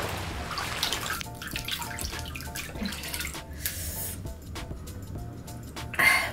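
Tap water runs steadily into a bathroom sink while someone wets their face before cleansing, a close, continuous splashing rush with small surges and no talking.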